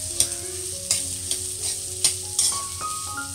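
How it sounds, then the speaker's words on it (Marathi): Finely chopped onion sautéing in melted butter in a pan for street-style pav bhaji, with a steady close sizzle broken by repeated sharp spoon-stirring scrapes and clinks, no voices. "त्यामध्ये आपण बारीक चिरलेला कांदा टाकूया। होईपर्यंत आपण परतून घ्यायचं आहे।"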